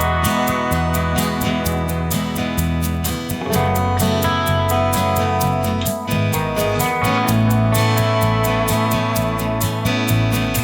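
Steady modern country pop chord progression on a backing track, with a shaker ticking in a regular rhythm throughout, full and continuous.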